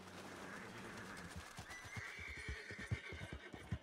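Horse in the video game Red Dead Redemption 2 neighing with a drawn-out whinny, followed by a steady series of hoof clip-clops growing louder and closer, with no talk.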